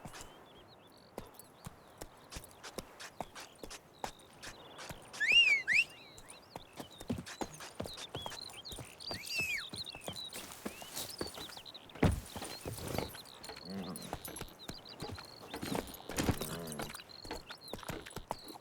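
Horse hooves clip-clopping in the video game The Witcher, a dense run of sharp hoof strikes at a trotting pace, close and clear, with a brief whinny-like snort early on.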